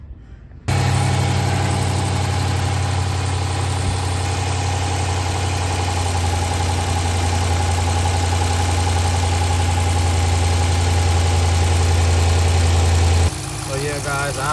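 A 2012 Jeep Grand Cherokee engine idles steadily with a constant low hum and faint vibration, running without a break for about twelve seconds before cutting off.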